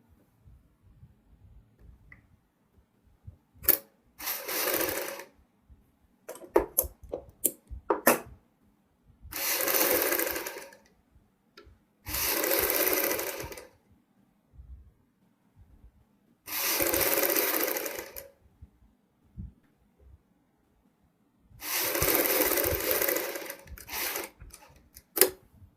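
A sewing machine stitching the front of a V-neck dress runs in five loud bursts of several seconds each, with quiet pauses, light handling clicks and fabric rustle between the runs.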